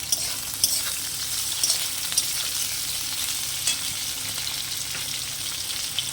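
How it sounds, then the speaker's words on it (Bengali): Potatoes and a ground paste of mustard, cumin, chilli and onion sautéing in hot oil, with bitter gourd in the pan, a continuous close sizzle broken by light stirring scrapes and a few soft knocks. "কষে রাখা আলুগুলো দিয়ে আবারও একটুখানি কষিয়ে নেব"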